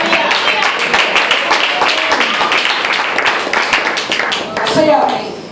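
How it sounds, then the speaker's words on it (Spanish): A church congregation breaks into loud, dense clapping, with many hands close together in a steady burst and voices calling out over it. "Dale un aplauso a Dios."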